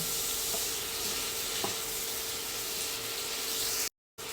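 Shrimp seasoned with salt, black pepper and seasoning mix sizzles steadily in a hot pan while being stirred, with a couple of soft scraping taps, then a brief cut near the end.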